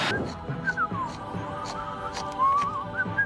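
Someone whistles a light, wandering tune, the notes sliding up and down, close by over a faint background murmur.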